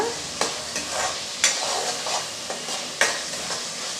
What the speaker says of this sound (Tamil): எண்ணெயில் நல்லா நம்ம கத்திரிக்காய் வதக்கி விட்டால் தான் நமக்கு வந்து கத்திரிக்காய் கரையாமல் இருக்கும்